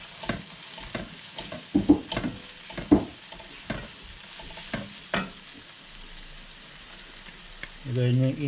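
Chopped garlic and onion sautéing in a pan for spicy turkey side dishes: a soft, steady sizzle broken by irregular scraping stir strokes, with a brief clatter near the end.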